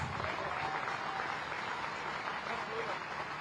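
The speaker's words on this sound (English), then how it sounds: "A huge round of applause." An audience at the Rashtriya Raksha University convocation in India keeps up a continuous wash of applause, with even, moderately distant clapping and no clear break.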